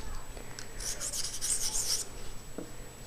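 A dull knife blade scrapes across a sharpening stone in a few short, quiet rasping strokes, close and alone against faint background hiss.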